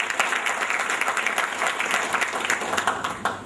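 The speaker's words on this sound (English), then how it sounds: "I would like to give a huge round of applause to all of our trade associates" Applause from an audience of trade associates at a business event in Ahmedabad, a steady dense wash of clapping close by that holds through the whole stretch without talk.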